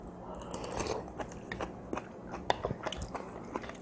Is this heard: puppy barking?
no